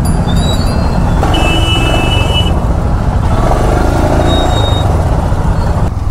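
Heavy traffic jam in Raniganj town on a rough road, with loud continuous engine rumble from trucks and buses close by, a sustained horn or brake whine cutting through, no voices.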